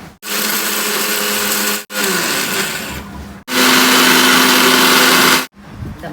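A mixer grinder grinds roasted sambar powder spices in loud, close bursts, a whirring motor roar that runs in several pulses separated by brief stops.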